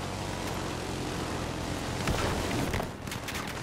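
A military helicopter drones through a video game battle, a continuous rumbling rotor wash mixed with faint distant gunfire cracks.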